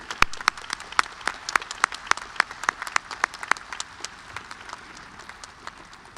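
Graduation ceremony audience applauding in a large hall; crisp individual claps ring out in a loose, scattered rhythm, fairly steady and moderately loud, thinning slightly toward the end.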